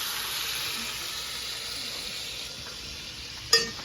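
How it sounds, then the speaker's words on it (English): Onions and other vegetables stir frying in a pan give a steady, close sizzling hiss, ending with a brief clatter of a utensil. "start stir frying the onions and the other vegetables"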